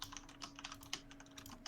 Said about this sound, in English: Who's typing like they're a maniac?